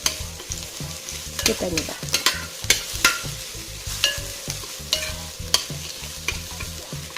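Onion and garlic sautéing in a pan for Filipino chicken afritada, a steady sizzle broken by repeated scraping stirs and utensil clicks, loud and close, with a brief spoken question.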